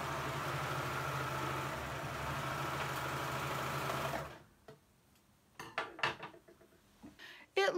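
A serger sewing a 3-thread flatlock seam runs with a loud, steady whirring buzz for about four seconds, then stops, followed by scattered clicks and handling knocks.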